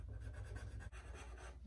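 A pencil traces lines back and forth, laying a heavy coating of graphite over a design, producing steady close scratchy rubbing with a brief pause midway.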